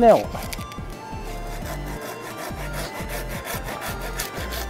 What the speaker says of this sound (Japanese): 骨だけノコギリで断ち切って、